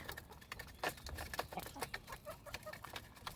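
Backyard hens cluck and chatter close by in short, irregular bursts while being fed, with soft pecking and patter between the calls.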